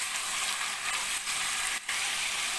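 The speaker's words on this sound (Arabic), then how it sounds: "هنزل كده بكيلو اللحمة، اشوح اللحمه كده تاخد اللون الجميل ده" Minced meat frying in ghee in a hot pot, a steady close sizzle and crackle throughout with one brief dip near the end as it is stirred.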